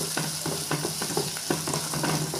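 Garlic and onion sauté in oil for a keerai poriyal, a continuous sizzle broken by regular spatula stirs and scrapes roughly every quarter second.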